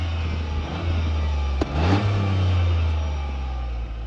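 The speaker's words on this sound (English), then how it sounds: "the two exhausts, which make a very nice sound" A Toyota GR Yaris engine rumbles steadily nearby through twin exhausts, swelling briefly into a throaty rev before settling back to a deep idle.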